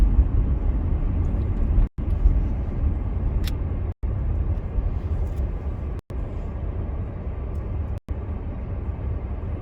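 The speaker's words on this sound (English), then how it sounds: "The odd car." A steady, broad road rumble of cars passing on a quiet road during a morning drive to work, continuous and fairly loud with no talk, broken by a few brief drop-outs.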